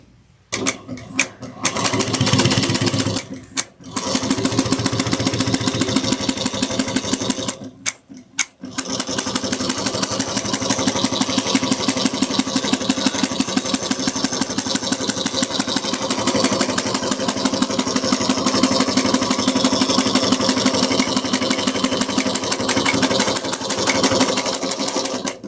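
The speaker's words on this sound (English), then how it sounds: "I'm going to sew within that line" Sewing machine running steadily and close while basting a pattern piece along a marked line for a sling pack, with a few brief pauses near the start before a long continuous stitching run.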